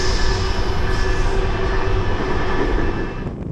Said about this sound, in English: One thing I really like about being on a locomotive haul train